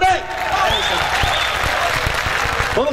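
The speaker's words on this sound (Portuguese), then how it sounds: "uma salva de palmas para vocês também" An outdoor crowd at a Jovem Guarda 30th anniversary concert in São Paulo's Vale do Anhangabaú claps steadily, dense applause with a few louder cheers over a sustained wash of hands, and voices audible within it.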